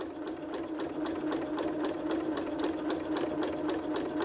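A sewing machine stitches a quilt block, running steadily at a quick, even rhythm of needle strokes throughout, close and fairly loud with no talk over it.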